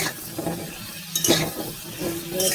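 Pointed gourd pieces fry in oil with turmeric, a continuous sizzle with stirring scrapes and a couple of louder crackling flares, close by and free of talk.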